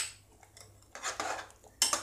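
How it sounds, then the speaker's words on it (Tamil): A metal spoon scrapes and clinks against a pot of potato kurma in a few irregular strokes, close and fairly quiet, ending with a sharper clank. "அதையும் கலந்து விட்டுருவோம்."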